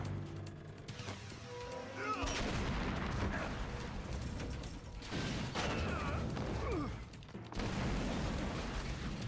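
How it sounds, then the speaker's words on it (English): Repeated heavy blasts and booming bursts from the game Metal Gear Solid: The Twin Snakes, loud and dense, with gunfire-like cracks and mechanical clatter between them and a voice talking over parts. "Look at all these explosions, my goodness."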